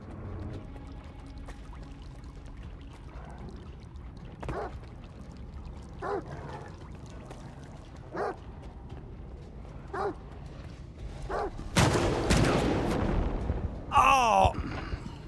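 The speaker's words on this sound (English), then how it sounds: "I can't hear the bloodsucker because the dogs won't stop fucking barking." Dogs in the video game S.T.A.L.K.E.R. 2 bark in short, separate bursts every couple of seconds at a moderate distance. A louder flurry of barking and yelping comes near the end.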